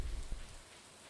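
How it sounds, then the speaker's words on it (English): Gentle rainfall in the farming game Stardew Valley, a brief, even hiss of falling drops with a low thump near the start and no voices. "Oh, poor cows left out in the rain."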